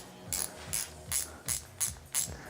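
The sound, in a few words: ratchet snugging up a bolt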